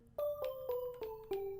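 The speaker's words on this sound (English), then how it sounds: "the first sound that we're using is the Xylo Pluck." A Xylo Pluck synth preset from the Rager Serum Bank plays a short descending melody of about six bright, mallet-like plucked notes, clear and alone.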